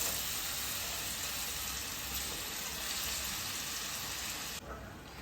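Grated mango fries in hot ghee in a kadai, a steady, even sizzle that runs alone without a break and softens slightly near the end.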